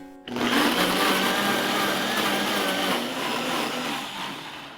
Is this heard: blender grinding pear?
yes